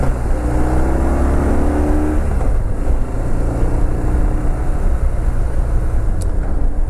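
A motorcycle accelerates hard to overtake a truck, its engine note climbing under steady, loud wind roar for several seconds.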